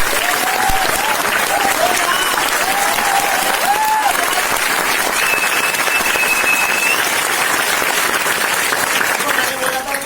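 Loud, dense applause fills a network marketing workshop hall, a sustained roar of many hands clapping at once that holds steady for several seconds before easing slightly at the end.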